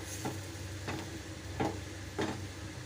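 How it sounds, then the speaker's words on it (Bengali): Ground chickpea dal paste stirred in a pan: four soft, evenly spaced scrapes of the spoon against the metal over a faint sizzle, quiet and close, with no talking. "ডালটাকে দিয়ে একটু ভালো করে নাড়াতে হবে, শুকনো করে।"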